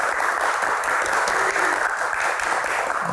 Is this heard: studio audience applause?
yes